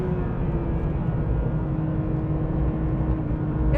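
A Porsche 911 race car holds a steady, loud engine drone through turn 1 at close to 200 km/h, a continuous whirring roar with no talking.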